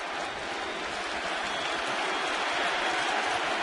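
Stadium crowd at a Boston Red Sox versus Toronto Blue Jays baseball game chanting for the Blue Jays, a dense, steady roar of many voices that fills the whole stretch, distant and unbroken.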